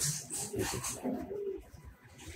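A male Giribaz or racer homing pigeon coos softly and repeatedly at close range, low rolling calls with faint rustling and no speech.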